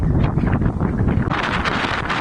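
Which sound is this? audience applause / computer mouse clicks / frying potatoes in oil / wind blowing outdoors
wind blowing outdoors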